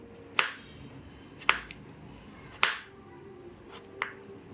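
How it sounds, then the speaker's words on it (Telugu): Cucumber for a Telugu pickle-style chutney is chopped into small pieces with a knife, four or five crisp, separate chops spaced about a second apart against a quiet room, with no talk. "ఇలా మనం వీటిని చిన్న చిన్న ముక్కలుగా కట్ చేసుకుందాం."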